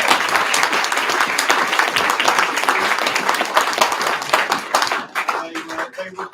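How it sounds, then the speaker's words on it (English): Wedding guests at the reception speeches give the flower girls a big round of applause, dense, loud clapping from a crowd close by that thins out and fades near the end. "could we have a massive round of applause for our flower girls?"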